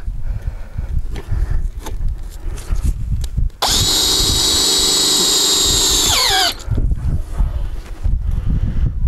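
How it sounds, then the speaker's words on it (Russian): A power drill drives a self-tapping metal screw into a garden bed board, one loud high whine of about three seconds that rises and cuts off, set between quieter outdoor rustling and handling noise. "надо саморезами по металлу желательно ее прикрутить"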